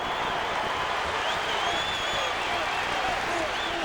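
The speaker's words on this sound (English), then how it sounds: "And that gives Cincinnati a chance to cheer" Cincinnati Bearcats basketball fans cheer after a three-pointer in a 2005 NCAA Tournament second-round game against Kentucky. A loud, steady crowd roar fills the arena, with a commentator talking over it.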